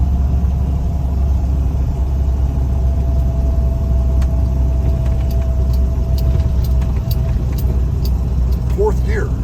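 Steady, loud engine and road rumble from a 1976 Toyota FJ40 with an upgraded 2F engine, pulling up a grade in fourth gear at about 30 mph, with a constant drone and a faint whine throughout.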